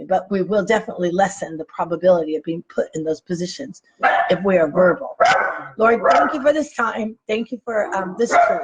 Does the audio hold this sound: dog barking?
yes